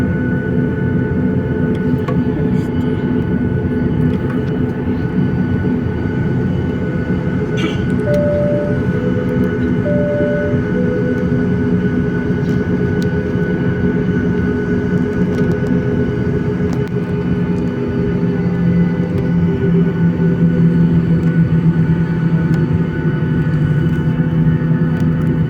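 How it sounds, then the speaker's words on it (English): A Batik Air plane taking off from Jakarta produces a loud, steady engine roar with a deep rumble and sustained whining tones that hold for the whole stretch. "now we're going to take off"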